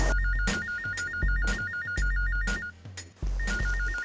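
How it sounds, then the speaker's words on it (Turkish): A telephone rings repeatedly inside a bank during a robbery standoff, loud electronic warbling trills broken by sharp pulses, pausing briefly before ringing on. "Aç şu telefonu."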